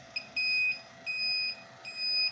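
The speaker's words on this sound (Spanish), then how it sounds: "se activa la alarma y el LED de forma intermitente" An Arduino reverse parking sensor alarm, triggered at under one metre, sounds three clean electronic beeps of about half a second each, evenly spaced and moderately loud against quiet background.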